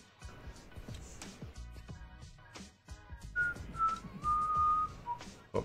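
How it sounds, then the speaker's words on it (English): A person whistles a few soft, sustained notes of a tune amid light clicking and desk noises, clear and close in a quiet room. "Oh, I shouldn't whistle. That's probably not a pleasant sound for you guys."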